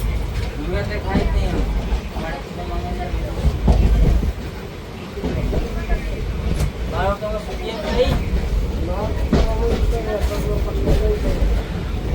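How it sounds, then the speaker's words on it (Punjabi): Passenger train 54551 pulling out of Ambala City station in India, its wheels clattering in a steady rhythm, loud and close, with people talking over it. "ਸੋ ਆਪਣੀ ਟ੍ਰੇਨ ਜਿਹੜੀ ਆ ਅੰਬਾਲਾ ਸਿਟੀ ਰੇਲਵੇ ਸਟੇਸ਼ਨ ਤੋਂ ਚੱਲ ਪਈ ਆ ਜੀ"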